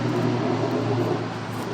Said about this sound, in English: these motherfucking cars and shit make too much damn noise